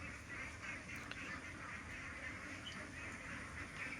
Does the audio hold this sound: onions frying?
no